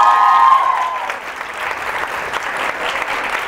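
Studio audience at a Catalan TV quiz show applauds a contestant team, dense steady clapping that starts loud and carries on without letup.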